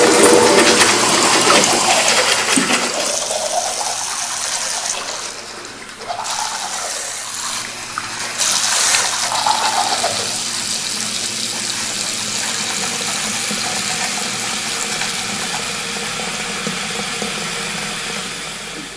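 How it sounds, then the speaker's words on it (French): Water running from an open tap, a loud, steady broadband rush that continues throughout, with brief dips and faint background sounds. "on a tendance à laisser le robinet ouvert"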